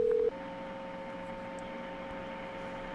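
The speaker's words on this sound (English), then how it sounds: "There's a lot of static" Static hiss on a recorded 911 phone call placed from a funeral home, a faint steady crackle with a constant electrical hum tone running throughout after a brief louder start.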